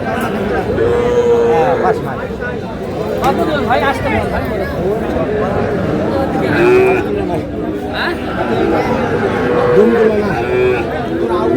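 Several Sahiwal calves moo repeatedly amid a busy cattle market crowd, people chattering loudly all around them.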